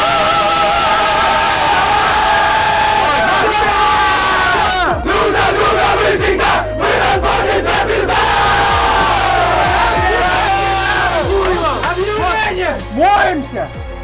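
A team crowd bellows a chant together, loud massed shouting with rising and falling voices over about fourteen seconds, ending in a sharp burst.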